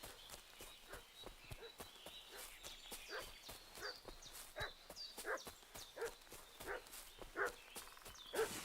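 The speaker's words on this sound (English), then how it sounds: "What's that dog making such a fuss about?" A dog barks repeatedly in the Kingdom Come Deliverance video game, a series of faint, distant yaps at an uneven rhythm over soft footsteps or hoofbeats.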